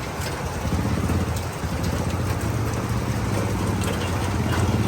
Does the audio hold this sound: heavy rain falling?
yes